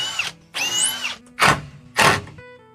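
Power drill driving screws into a wooden chair frame being built, in three close, loud bursts of whirring with short pauses between, the last two short and strong; no talking.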